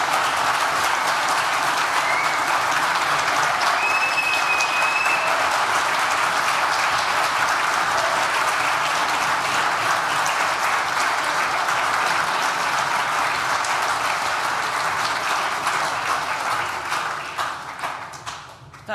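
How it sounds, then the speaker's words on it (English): Graduation ceremony audience applauding friends and family, a loud, sustained wash of many hands clapping that holds evenly before tapering off over the final two seconds. "That was a wonderful round of applause."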